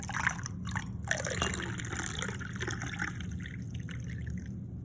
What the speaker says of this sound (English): I'm gonna pour it in this glass, so I'm gonna stir it up.